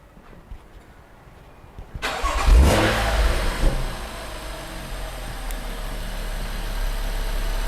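A BMW M135i engine with a VRSF catless downpipe cranks and catches with a loud burst, revs up sharply, then settles into a steady, rumbling idle close by.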